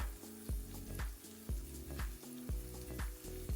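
Diced ham, bell pepper, red onion and garlic sizzle in a pan for a Western omelet, punctuated by rhythmic scraping stirs about every half second, soft and close with no talking.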